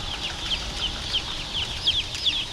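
Baby chickens in a large chicken house peep and cluck constantly in a dense flock, with sharp chirps rising above a steady hum of birds and ventilation.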